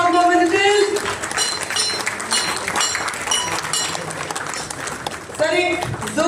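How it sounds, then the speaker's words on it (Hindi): At a Bombay Stock Exchange listing ceremony for Paradip Parivahan Limited, an audience applauds in a steady, dense patter of clapping that runs throughout, with a voice talking over it and music-like tones threaded in. "another round of applause please for Paradip Parivahan Limited entering into Bombay Stock Exchange"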